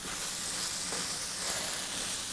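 Mince sizzles in a hot pan, a loud, continuous crackling hiss with no talking.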